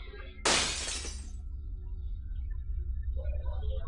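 Glass shattering in the video game Seven Mysteries, a single loud, sharp crash with a bright spray of fragments that decays over about a second, followed by low ambient rumble and faint game sounds.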